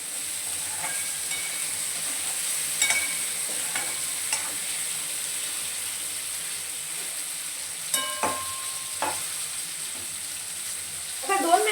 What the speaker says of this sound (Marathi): आता 2 मिनिटं याला चांगलं परतून घेणार आहोत.